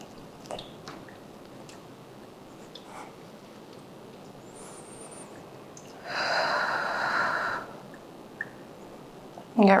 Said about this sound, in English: Two deep breaths here.